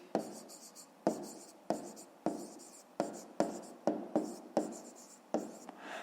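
Pen writing out a handwritten answer during a fifth-grade math exercise: about ten quick, evenly spaced strokes, close and crisp, with no talking.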